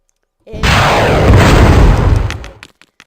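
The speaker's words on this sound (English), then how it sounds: "next weapon is the RPG. Rocket propelled grenade." A rocket-propelled grenade blasts in the Territory War 3 game, a single loud, close explosion that booms and rumbles for about two seconds before dying away into a few faint crackles.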